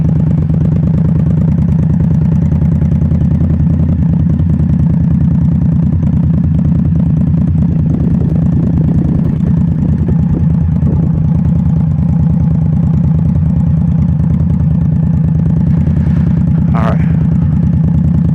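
A motorcycle engine runs steadily at low revs during low-speed maneuver practice, a loud continuous close rumble with slight variations in throttle and a brief clatter near the end.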